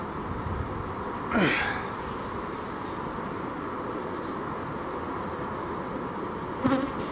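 A continuous low buzzing of many bees fills the background, with a couple of louder passes as individual bees fly close.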